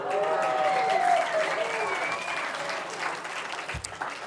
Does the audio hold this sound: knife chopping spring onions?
no